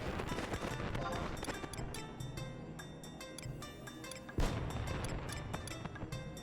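Fireworks from a summer event in the Final Fantasy XI video game, heard as dense, overlapping crackles and booms over a steady bed of game music and ambience, with one sharper burst partway through.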